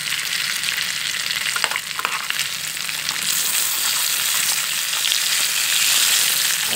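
Cassava (aipim) frying in hot oil gives a loud, dense, continuous crackling sizzle up close, with a few faint stirring knocks early on.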